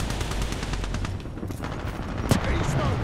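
Gunfire in a Titanfall 2 online multiplayer Attrition match at Forwardbase Kodai: rapid automatic bursts crackle continuously, with a sharper, louder shot near the end and some background game noise.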